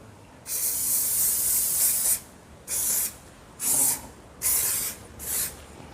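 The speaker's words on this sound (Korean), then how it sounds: "밥통에 식용유 발라줍니다." Cooking oil sprayed inside a rice cooker pot: one long hissing spray burst followed by four shorter spritzes, close and crisp with quiet pauses between.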